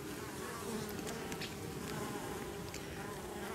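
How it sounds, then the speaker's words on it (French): Wasps buzzing, a steady droning hum close by with a few brief louder passes, no voices. "On n'a pas eu beaucoup de guêpes, mais on les voit débarquer là."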